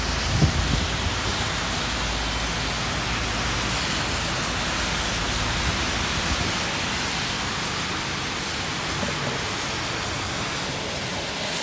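Heavy summer rain pouring down onto a flooding road, heard from a fourth-floor height as a dense, steady, loud roar of falling water with no pauses.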